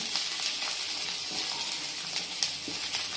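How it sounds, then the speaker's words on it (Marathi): A spinach and fenugreek mixture with garlic sizzles steadily in a hot pan while it is stirred, with soft scraping strokes and crackling close by throughout and no voices. "कच्चेपणा जाईपर्यंत त्याला हलवून घ्यायचं."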